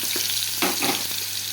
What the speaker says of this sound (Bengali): প্রথমে দেখো, আমি আলুটাকে ভেজে নিচ্ছি